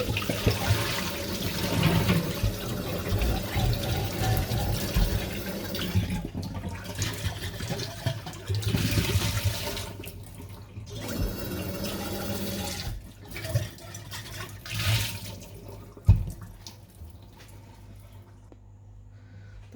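Tap water runs steadily into a sink while something is rinsed during homemade shisha preparation, a continuous splashing flow with a few clunks and pauses as the stream varies in strength.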